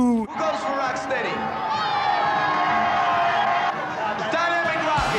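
A hip-hop battle crowd roars with sustained cheering, whoops and shouted voices, loud and continuous for the whole stretch with a brief dip near the start.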